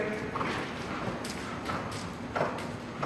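A horse cantering, its hooves striking the ground in a quick, regular rhythm of soft thuds, fairly close and unaccompanied by talk.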